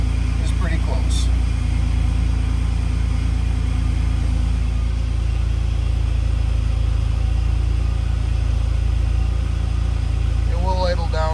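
Car engine idling at around 1,000 RPM, a loud steady low hum and drone held throughout, with a person talking over it near the start and end.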